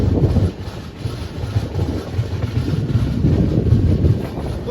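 A train rumbles along steadily, with low rolling noise and some wind buffeting the microphone.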